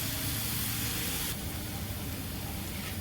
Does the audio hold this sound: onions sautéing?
yes